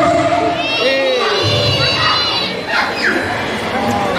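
A lively crowd at the inauguration of a water purification plant in Lachirioag shouts and cheers loudly, with children's high-pitched whoops and excited voices overlapping.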